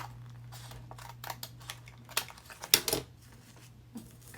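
Scissors snipping through a folded paper label, a few quick crisp cuts clustered in the middle, close and fairly quiet, with no talking.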